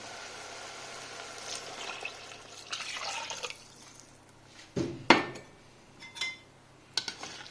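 Fifty centilitres of vegetable broth poured into a pan of wine-soaked rice for mozzarella arancini, a steady splashing pour for a few seconds, followed by a few sharp metallic clinks of utensils against the pan.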